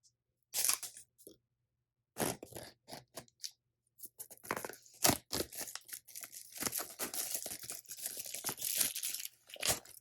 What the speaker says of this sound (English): let's go ahead and rip this open.